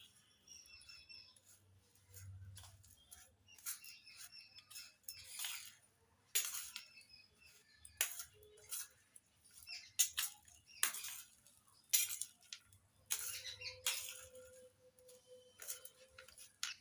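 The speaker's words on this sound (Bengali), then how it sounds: "এবার ভেজে নেওয়া চাল ভাজার সঙ্গে বাদাম, মশলা আর কারি পাতা ভালো করে মিশিয়ে নিচ্ছি।" Fried rice being tossed with peanuts, spices and curry leaves in a pan, giving a quiet, irregular run of light clinks, scrapes and rustling stirs with brief pauses between strokes.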